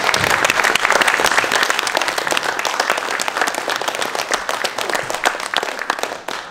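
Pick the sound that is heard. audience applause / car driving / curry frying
audience applause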